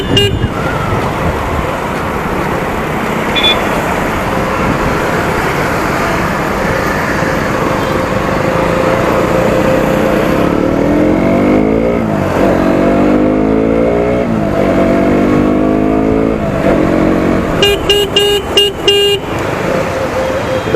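A KTM Duke 125 BS6 motorcycle rides through corners, its engine revving up and down in rising sweeps under loud wind noise, with passing traffic and several short horn toots near the end.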